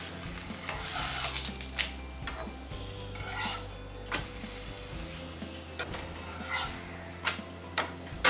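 Egg paratha fries in oil in a pan with a soft, steady sizzle. Scattered light scraping and clinking from a utensil sound against the pan now and then, and no one speaks.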